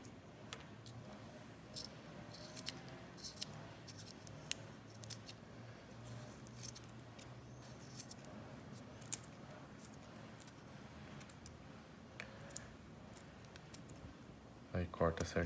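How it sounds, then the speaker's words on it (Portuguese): Scissors snip EVA foam to trim a thin-profile miniature tire, giving repeated sharp, quiet cuts close by under steady talking. "Aí você vai cortando, retirando tudo que sobrou aqui, ó, que ficou maior, pra ficar justinho."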